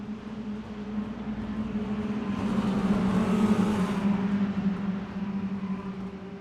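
Race cars in the iRacing SPEED Dash Series at USA International Speedway roar down the backstretch under caution, a steady engine drone that swells as the field passes near and then eases slightly.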